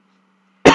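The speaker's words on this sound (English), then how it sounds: "we got this little cough." A single short cough bursts out near the end after a quiet stretch with a faint hum.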